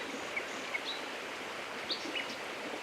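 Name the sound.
river flowing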